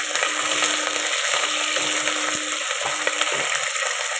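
Cauliflower, carrots, potatoes and beans frying in a pan over a lowered gas flame for veg biryani, a steady close sizzle with occasional stirring clinks and scrapes.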